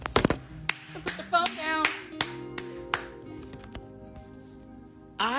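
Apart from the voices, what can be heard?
clapping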